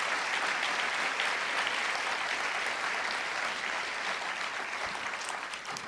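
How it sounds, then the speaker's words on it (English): A theater audience at a New Yorker storytelling evening at SIR Stage 37 gives warm, sustained applause. The dense, even clapping continues for about six seconds and fades slightly near the end. "Let's have a nice round of applause for them."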